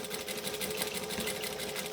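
A domestic sewing machine stitching a bag runs in a steady, fast, even rhythm of needle strokes at moderate volume, with no speech over it.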